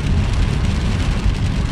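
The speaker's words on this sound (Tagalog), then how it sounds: "umuulan ngayon, ang lakas ng ulan, grabe." Heavy rain pours down steadily, a dense, loud, continuous hiss and patter of drops on surfaces with no break.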